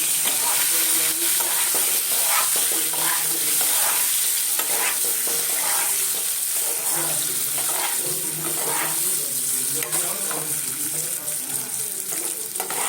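Boiled potatoes with turmeric frying in a pan on a gas stove, a loud continuous sizzle with repeated scraping and stirring strokes running throughout.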